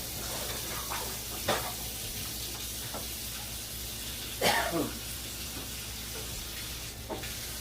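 A pasta spoon stirs pasta in a pot of boiling water, producing a few scattered scrapes and splashes against the low, steady bubbling and hiss of the boil.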